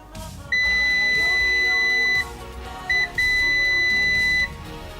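Two bright, steady beeps from a multimeter continuity test while checking pins on a consolized PSP, the first lasting almost two seconds and the second, after a brief chirp, about the same length, loud over a busy background hum.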